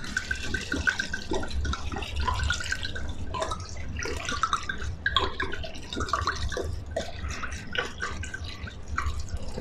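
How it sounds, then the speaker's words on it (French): Red wine poured into a pot of beef bourguignon stew with chicken stock, giving a continuous close splashing and trickling gurgle with small drips, steady throughout without talk. "Et là, je vais rajouter le vin."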